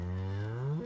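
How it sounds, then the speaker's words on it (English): On a farm, a cow gives a single short, low moo close by, with nothing else heard. "Moo, moo,"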